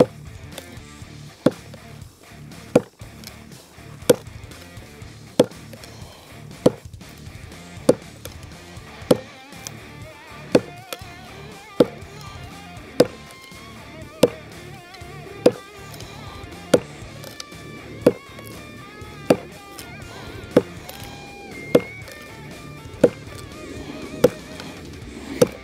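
A Bark River JX5 Vengeful-1 knife, a Chris Tanner design, is stabbed tip-first into wood about nineteen times. The sharp, close thuds come at an even pace roughly every second and a half, over a quiet background.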